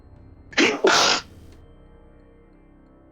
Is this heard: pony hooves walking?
no